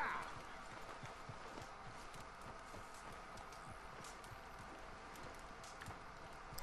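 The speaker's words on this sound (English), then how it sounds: "I hate those ridiculously long horse rides." Faint galloping horse hooves in the video game Red Dead Redemption 2 clop in a steady rapid rhythm beneath a constant background hiss, quiet and distant throughout.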